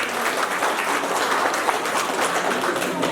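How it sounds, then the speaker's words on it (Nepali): At a veterans' victory day ceremony for a Gurkha regiment, an audience claps in thanks, a steady, full round of applause throughout with no talking. "ताली बजाएर उहाँलाई धन्यवाद दिन चाहन्छु।"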